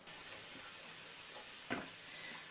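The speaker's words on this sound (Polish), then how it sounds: "Na suchą patelnię kładę cebulę i czekam aż się przypali." Onion sizzles on a dry frying pan, left to char: a steady, soft, quiet hiss with a faint crackle or stir partway through.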